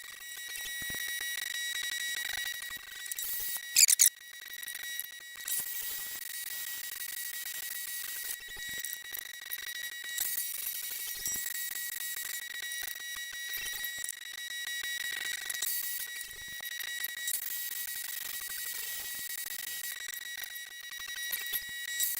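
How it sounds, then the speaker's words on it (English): A power tap cutting threads into billet drive flange caps for a Dana 60 axle, a steady high-pitched whine with tonal ringing that drops out briefly at intervals as the tool reverses or pauses, close and without talk. "Power tapping, it's the only way to go."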